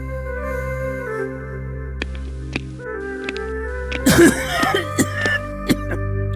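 Several short harsh coughs from a king in a Bengali Gopal Bhar cartoon court scene, clustered near the middle over steady background music.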